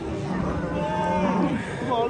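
Dairy cows at the Nookat livestock market give a sustained moo that blends into a constant din of crowd noise and bustle, close and fairly loud throughout.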